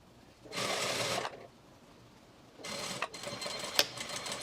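Sewing machine stitching a pair of pants, two short whirring runs with a pause between them, the second ending in a brief back stitch, quiet and close with no voices.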